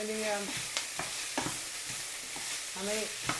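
A pan of one green pepper, one red pepper and one onion sautéing for calzone filling, with a steady close sizzle and occasional stirring clicks. A voice speaks briefly over it.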